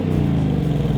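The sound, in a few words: Ford Mustang GT 6th generation V8 engine revving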